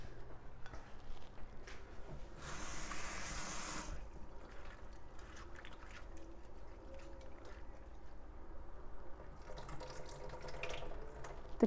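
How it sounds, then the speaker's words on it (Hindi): Tap water runs steadily into a sink as onions are rinsed, with splashing and dripping under it and two brief louder gushes of flow along the way. "ये जो प्याज है इसको हम अच्छी तरह से वॉश कर लेंगे"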